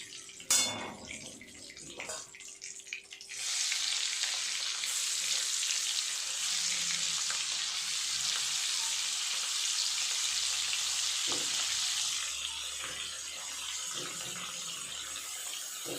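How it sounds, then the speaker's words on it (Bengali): Prawns frying in a pan, a steady loud hissing sizzle that starts after a few bumps of the pan and continues without a break, heard up close. "একইভাবে বাকি মাছগুলোকেও আমি ভেজে নেব, চিংড়ি মাছগুলো।"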